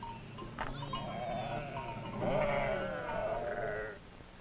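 Sheep grazing on dry Navajo rangeland bleat loudly and up close, several overlapping wavering calls filling the moment with no voices.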